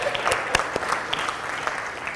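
Audience applause at an academic lecture welcoming a speaker, a brief burst of scattered claps with a few sharp individual hand strikes standing out.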